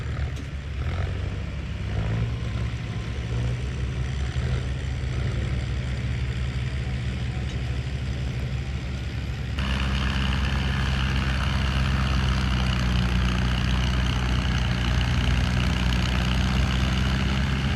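A farm tractor idles in a field, its low, steady engine rumble continuing throughout and growing slightly fuller and louder partway through.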